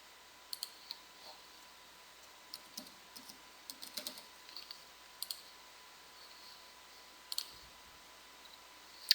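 Soft, sparse computer mouse clicks, single and double, land irregularly during website setup on a quiet desk, faint and close with no talk.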